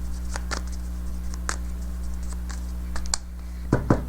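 Tarot cards are shuffled in sparse, irregular light snaps and riffles over a steady low electrical hum, with a louder flurry near the end.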